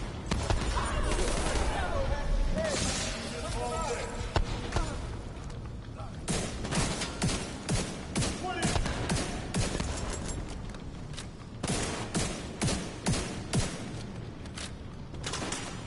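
Gunfire in The Division 2 on PS5, bursts of rapid shots and heavier bangs echoing through a busy firefight, with voices talking over the shooting.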